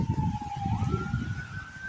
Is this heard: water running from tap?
no